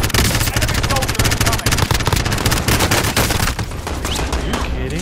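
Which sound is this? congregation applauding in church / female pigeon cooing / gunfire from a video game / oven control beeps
gunfire from a video game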